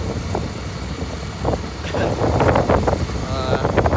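Motorbike ride on the road toward Muktinath Temple in Nepal, with loud, continuous wind buffeting the microphone over a low engine drone, and a voice talking over it.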